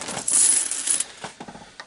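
£2 coins being sorted during a coin hunt, giving a close, bright metallic jingle and clatter for about a second, followed by a few lighter individual clinks, with no voices.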